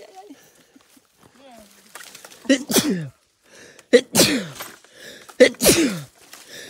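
A person sneezes loudly several times in quick succession during a conversation in Honduras about a broken wire fence, with people talking before and between the sneezes.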